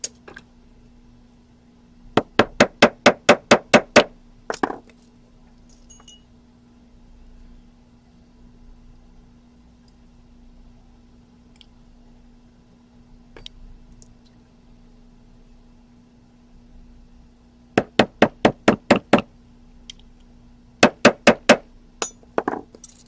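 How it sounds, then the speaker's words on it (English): Rivets being set by hand on a metal porthole pendant with sharp, bright hammer taps in quick bursts of five to eight strikes, separated by quiet pauses with a low steady hum behind. "one at a time, take my rivets and set them"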